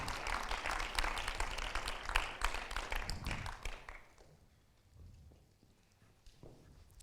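An audience applauds at a documentary premiere, with dense, loud clapping that ebbs away after a few seconds into sparse claps and quiet room noise.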